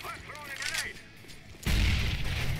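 An HE grenade explodes on the Nuke map in Counter-Strike, a sudden loud boom with a rumbling tail that bursts in after a second of quieter game noise and speech.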